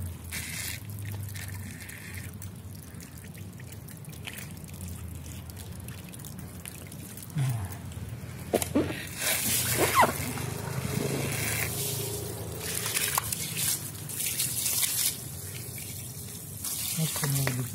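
Water is poured and splashed over a car battery to rinse it, with intermittent trickling and louder gushing bursts up close, alongside handling noises.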